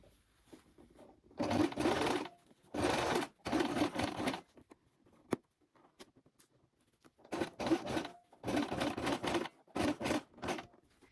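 Domestic sewing machine stitching in the groove of a dress seam at a long 3.5 stitch length, heard as several bursts of rapid whirring stitching separated by short pauses, close and clear with no talk.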